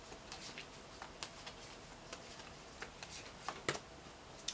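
Tarot cards shuffle and slide faintly against one another, with soft brushing and a few light taps as a single card is drawn from the deck in a quiet room.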